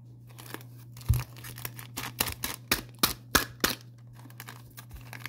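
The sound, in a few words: scissors cutting a Pokémon Tyranitar card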